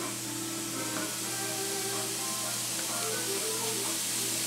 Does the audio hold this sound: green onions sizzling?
yes